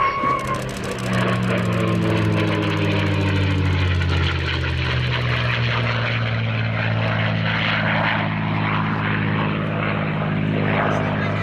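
An Allison-engined Mustang fighter flies past at an airshow, its piston engine droning loud and close, then shifting pitch and fading slightly as it passes, with no speech.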